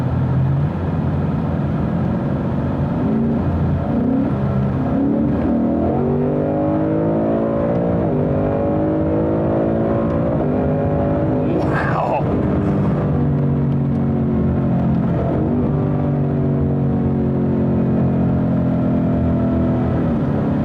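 A modified Ford Mustang GT's V8 exhaust roars as the car accelerates through the gears, pitch rising and dropping with each shift, loud and close throughout.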